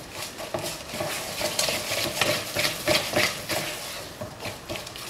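Almond and sesame sweet mixture stirred in a pan over heat, a steady scraping and wet rustling rhythm with soft sizzling, continuous and close throughout.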